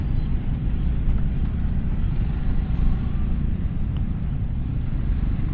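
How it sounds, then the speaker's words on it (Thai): Heavy morning traffic jam on a Thai road, a continuous low engine rumble and drone of idling and crawling vehicles, close and steady throughout with no talk. "รถติดมากเลยตอนนี้"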